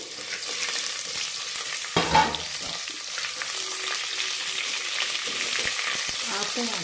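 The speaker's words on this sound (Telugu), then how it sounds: "ఆనియన్, చిల్లీస్ వేసామండి." Onions and green chillies sizzle and fry in a pan of oil for hotel-style Kashmiri pulao, a steady close crackle with a brief louder stir or clatter near the start.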